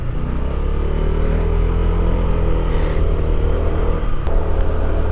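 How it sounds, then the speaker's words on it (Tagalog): A motorcycle engine strains up a steep climb on a mountain road in Kabayan, Benguet, holding a loud, close, steady low drone with gritty rumble and small shifts in pitch. "Hindi na umaahon yung motor ko."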